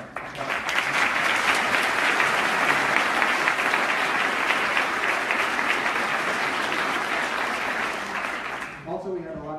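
Sustained applause from a large audience at a university campus event, dense and even throughout, fading near the end as a voice starts to speak.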